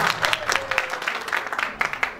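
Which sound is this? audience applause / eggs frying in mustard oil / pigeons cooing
audience applause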